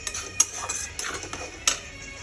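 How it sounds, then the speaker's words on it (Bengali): Spoon stirring masala for rupchand fish curry in a pan, with quick irregular scrapes and clinks against the metal and a soft fry underneath, close and alone. "এটাকে প্রায় আমি ভালো মতো কষিয়ে নেবো যতক্ষণ আমার তেল ছেড়ে দিচ্ছে তরকারি থেকে"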